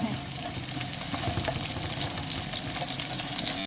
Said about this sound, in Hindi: सबसे पहले मैंने ऑयल गरम किया है, इसके अंदर हम प्याज ऐड करेंगे। प्याज को आपने ब्राउन करना है।